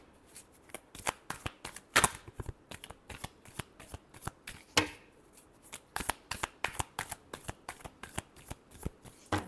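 Tarot cards are shuffled by hand in a quick series of crisp riffling slaps and flutters, close up and fairly quiet, with short pauses between bursts and no voice.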